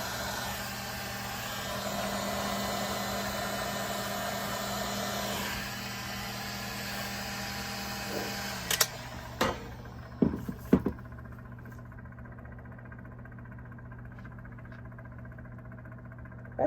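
A spinning machine turns a piece of white ink swirled over a glitter base, humming with a steady motor whir and a faint tone, then a few sharp clicks and knocks near the end.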